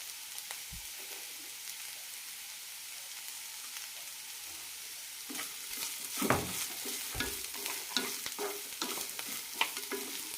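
Capsicum and coriander leaves sautéing in a pan for chutney, a steady soft sizzle broken by scraping stir strokes that grow busier and louder toward the end.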